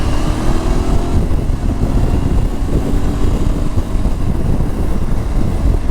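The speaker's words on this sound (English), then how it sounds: "These Aprilia engines are impressive" An Aprilia Tuareg 660 motorcycle engine roars steadily and loudly on a demo ride, its drone blended with heavy wind rush over the microphone and no voices.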